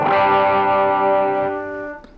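An electric guitar played through the lead channel of a Boss ME-80 preamp: one loud, distorted chord rings out with rich sustained harmonics and a slight chorus-like shimmer, fading over about two seconds.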